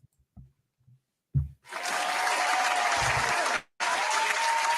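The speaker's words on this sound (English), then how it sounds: "I know y'all clapping." An audience bursts into applause for a man being brought up on stage, a dense, loud wash of clapping that starts after a few faint thumps, cuts off briefly, then resumes just as strongly.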